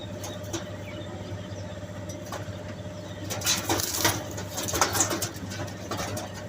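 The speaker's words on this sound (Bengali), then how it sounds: "এটা নর কবুতর।" Giribaj pigeons, including a male, coo softly in a row of low throaty calls over a steady background hum, with a few brief flutters and clicks partway through.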